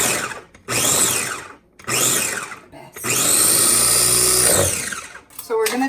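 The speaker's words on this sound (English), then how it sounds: "I'm gonna chop my garlic up in my Ninja" A Ninja food processor chops garlic in loud whirring bursts, three short pulses and then one longer sustained run, with its pitch rising and falling as the motor spins up and slows down.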